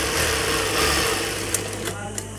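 A sewing machine stitches a double seam on a boy's salwar with a continuous motor hum and buzz that fades near the end, and a voice speaks alongside it.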